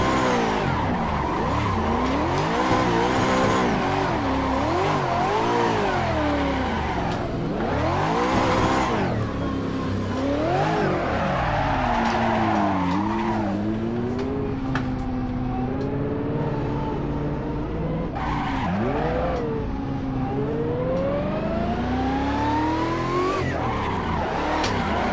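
Supercharged Mazda Miata on economy tires drifting in the Assetto Corsa racing game, engine revving and sweeping up and down continuously with squealing, skidding tires throughout, loud and without speech.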